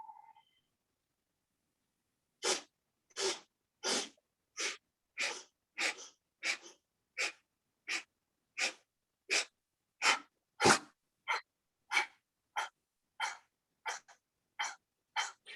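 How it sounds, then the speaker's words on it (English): Deep, deliberate breaths during a breathing exercise, repeated in a steady series of about twenty strong airy puffs, each loud and close, with brief silent gaps between them and no talking. "We're going to breathe in and breathe out."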